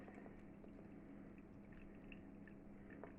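Orange bitters poured through a coffee paper filter, a faint, steady trickle of liquid with small drips over a continuous low background, close and unbroken.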